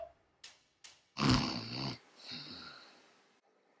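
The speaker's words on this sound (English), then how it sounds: "I'm snoring." A person snores in a few rough, snorting breaths, the loudest a long rasping snore in the middle, followed by a softer drawn-out exhale; close and alone with no talking.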